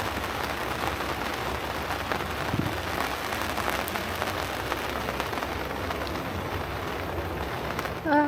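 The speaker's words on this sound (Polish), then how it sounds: "widzicie, że pada? Coraz większe te krople, coś czuję, że lunie." Steady rain pattering on surfaces at a beach campsite on an island, a dense even hiss of drops that holds for the whole stretch, with a brief scrape and rustle close by at the very end.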